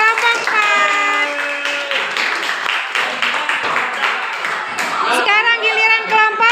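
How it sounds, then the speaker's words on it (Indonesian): A high school classroom of students clapping for a discussion group, steady applause running under children's and teens' chatter and voices throughout. "tepuk tangan buat kelompok 4."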